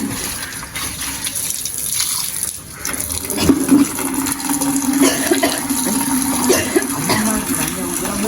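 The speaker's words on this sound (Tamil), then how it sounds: "அம்மாவுக்கு தண்ணி ஊற்றுவோம்" Water is poured and gushes steadily at a home in Jaffna, a continuous splashing flow that swells partway through and carries on without talk.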